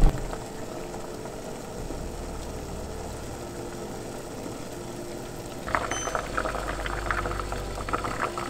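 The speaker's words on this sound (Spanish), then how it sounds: "vamos a cocer la zanahoria durante 7 minutos." A steady bubbling simmer of water with carrots boiling in a pot, growing louder and more vigorous toward the end.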